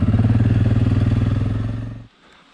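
An ATV engine runs steadily and loud up close on a forest trail among hills and fall colors, its pulsing drone holding for two seconds before cutting off abruptly into faint low rumble.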